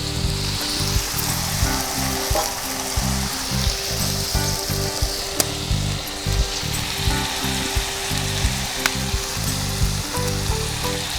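Oil simmering and sizzling in a pan while masala cooks, with jeera powder about to go in; a steady, loud broadband hiss runs throughout with dense crackling pops and low clattering, with no talk.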